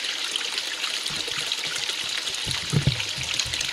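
Water trickles over the overflow of a small garden pond, a steady, soft, close burble with a few brief gurgles toward the end and no voices.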